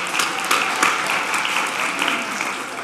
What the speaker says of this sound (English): How about a round of applause for Joey Crockett?